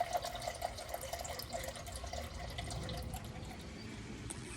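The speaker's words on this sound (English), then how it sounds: "now I'm gonna go get some filtered water out of the sink to fill it up" Filtered water runs steadily from a kitchen sink tap, a continuous close splashing hiss with faint dripping tones, with no voices.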